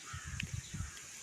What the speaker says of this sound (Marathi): मस्तपैकी पक्ष्यांचा किलबिलाट